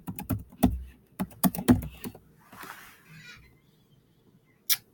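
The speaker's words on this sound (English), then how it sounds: "I'm going to type the title of the book in" Fingers tap out a book title on a computer keyboard, a close run of sharp, uneven keystrokes in short bursts, then a pause and one last isolated click.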